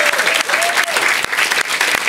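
Audience applause fills a French talk-show studio, a dense, loud, steady clatter of many hands with a voice briefly audible underneath.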